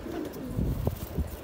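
Magpie pigeons brought from Punjab coo softly and close by in a short, low burst, with faint rustling around them.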